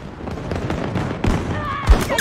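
Gunfire from a Battlefield 2042 match crackles through a busy mix of dense shots and rattling bursts, with a heavier boom near the end, all loud and close amid other game noise.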